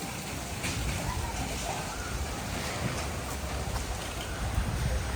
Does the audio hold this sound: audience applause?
no